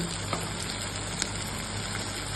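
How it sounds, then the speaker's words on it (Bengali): Ground spices (chili, turmeric, cumin and coriander powder) with sugar are sautéed in hot oil, giving a steady, close sizzling hiss with a few faint ticks and scrapes. "সব দিয়ে ভালো করে এবার মশলাটা কষে নিতে লাগবে।"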